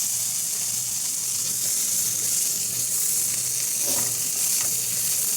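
Blueberry waffles fry in butter on a stovetop, a steady close sizzle with soft hissing and crackle running unbroken, with a brief louder pop of spattering near the end.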